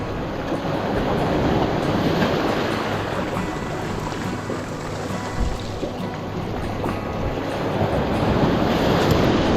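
Surf crashes steadily on a beach at sunset, with broad continuous wash and splashing waves close by, plus some wind buffeting on the microphone; no voices.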